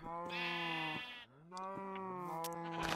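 A sheep in a video game bleating twice, each a long wavering nasal bleat close up, separated by a brief pause.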